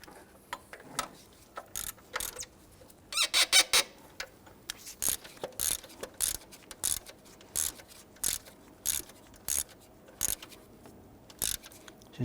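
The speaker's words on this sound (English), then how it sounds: "Using your 15mm socket, let's go ahead and snug down the two horizontal bolts on the alternator." A socket ratchet tightens the 15mm alternator bolts on a 1999-2004 Jeep Grand Cherokee 4.7L V8, close up. Crisp ratcheting bursts come in a steady rhythm of short strokes, with a louder flurry of clicks early on.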